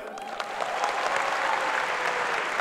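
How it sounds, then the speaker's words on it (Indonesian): A live audience at a Muhammadiyah and NU talk-show event in Solo bursts into steady, dense applause that holds at full strength throughout, with no voices over it. "boleh tepuk tangan?"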